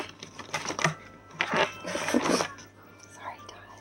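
Bursts of riffling ripple shuffles of playing cards on a wooden coffee table, crisp rapid flutters with soft clacks, repeated several times at close range, fairly loud and without talk.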